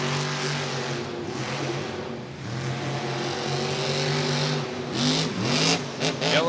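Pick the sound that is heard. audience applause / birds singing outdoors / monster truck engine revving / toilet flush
monster truck engine revving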